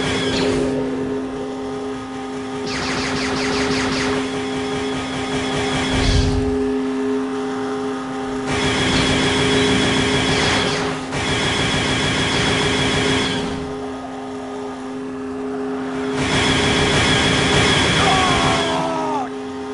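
A hover bike engine in the Jedi Academy video game drones and surges in repeated bursts, rising and falling over a steady tonal hum, loud and close, with a voice calling out between passes.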